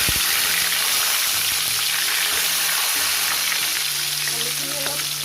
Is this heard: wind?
no